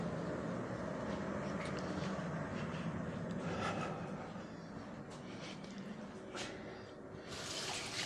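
Water running from a tap as ceramic glaze brushes are rinsed and a container is poured out, a faint continuous splashing wash with small clinks and shifts in flow.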